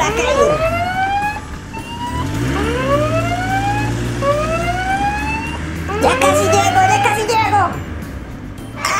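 An approaching ambulance siren, looping through rising wails over a low engine rumble, grows louder toward the end, with a sharp burst of high noise near the finish.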